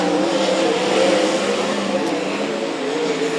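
Sprint cars in a pro feature race roar down the main straight, a loud, dense and continuous engine blare with slight swells as the pack passes and faint commentary underneath.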